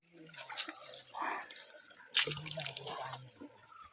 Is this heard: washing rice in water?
yes